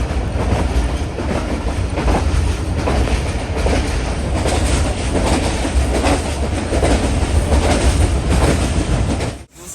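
A passenger train rolls along the tracks between stations in a loud, steady roar heard from inside, with rhythmic clickety-clack of wheels on rail joints throughout and no talking.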